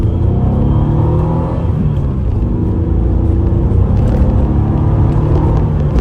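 A 1986 Renault Alpine GT Atmo engine revs steadily and loudly up close, holding a continuous throaty rumble for several seconds with no talking.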